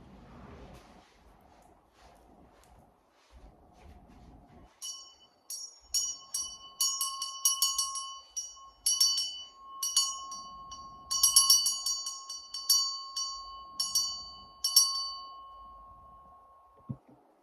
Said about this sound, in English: I feel the need to go get my own bell for you guys.